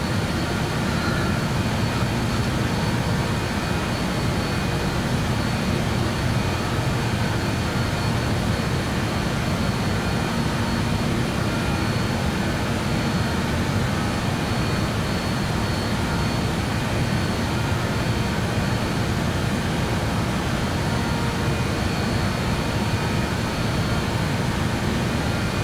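Jet engines of a BAE 146-300 cargo aircraft in Microsoft Flight Simulator 2024 drone at a steady roar after the throttles are raised, a constant loud rumbling whine with no talk over it.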